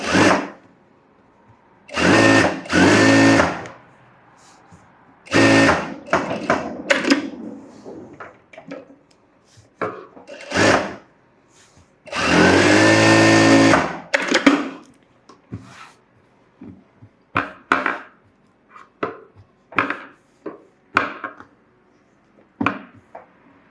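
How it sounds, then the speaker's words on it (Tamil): A sewing machine runs rough stitches on a blouse made from a saree, whirring close up in several short bursts and one longer run, with handling clicks in the quiet gaps. "இப்போதைக்கு நான் ரஃபாக தையல் போடுறேன்"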